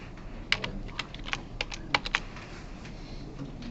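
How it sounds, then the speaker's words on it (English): Typing on a computer keyboard: a short burst of crisp, irregular key clicks, several sharp taps close together, over a quiet room background with no talking. "I'm going to type this wrong."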